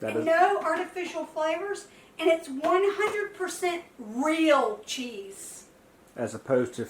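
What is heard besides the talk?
No distinct noise like a dog, phone or traffic.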